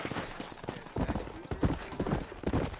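Horse hooves clip-clop at a steady trot in the video game Red Dead Redemption, close and moderately loud, with a brief snort and faint background sound.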